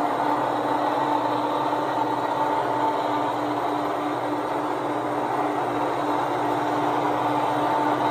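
A 35GM model train locomotive running, giving a steady, continuous mechanical hum and whir with a faint high whine, close and constant throughout with no talking.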